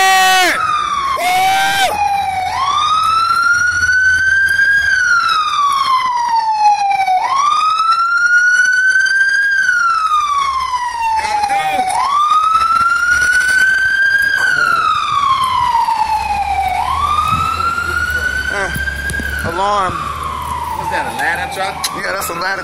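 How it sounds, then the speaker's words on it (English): A ladder fire truck siren wails loudly and close, rising and falling in long repeated sweeps, with engine rumble and a blast of horn early on. "that's a ladder truck"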